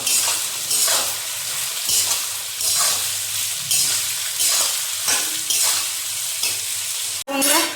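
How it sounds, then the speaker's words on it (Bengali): Onions frying in a large pan with oil and being stirred for mutton biryani, a steady close sizzle broken by regular scraping strokes of the spatula about once a second, then a sharp knock near the end. "চলো পেঁয়াজটা ভাজা হোক।"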